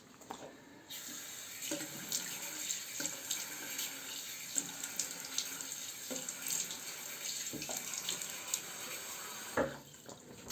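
A bathroom tap runs steadily while a face is wetted before shaving, the water stream broken by splashes and handfuls of water, close and moderately loud throughout with no talking.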